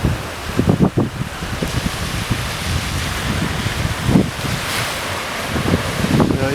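Ocean surf at Pismo Beach, California, a continuous close wash of breaking waves mixed with heavy wind buffeting on the microphone, with low gusty thumps throughout.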